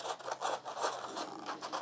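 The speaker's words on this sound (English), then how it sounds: "So now I'm going to try cutting out this canopy-like here," Scissors snipping through paper while a canopy-like collage shape is cut out, giving a steady run of short rasping cuts, close and fairly quiet, with no voices.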